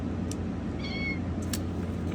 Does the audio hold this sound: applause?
no